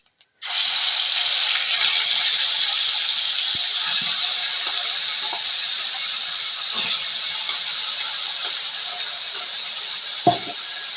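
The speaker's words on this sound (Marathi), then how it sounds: "त्याचप्रमाणे जे आपण वाटण केलेलं आहे ते त्याच्यामध्ये टाकूया." Ground spice paste dropped into hot oil with cumin seeds bursts into a loud, steady sizzle that holds for about ten seconds, with a few faint clinks near the end.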